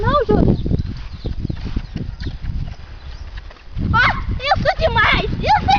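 A horse jumping and running on a farm, its hoofbeats clopping in an uneven rhythm at moderate distance beneath loud, near conversation and a voice.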